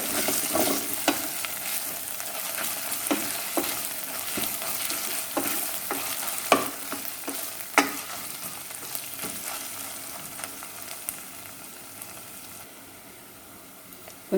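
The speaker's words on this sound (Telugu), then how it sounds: "కొంచెం ఉప్పు కూడా వేసుకుని వేయించుకుందాము" Green chillies fry with a pinch of salt in a pan, a continuous bright sizzle with irregular spoon scrapes and taps, close and steady before slowly quieting toward the end.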